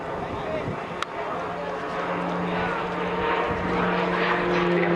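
RAF Tucano turboprop trainer at a flying display at Southport, a continuous droning propeller engine growl with a steady tonal hum, rising slightly in loudness as the aircraft approaches.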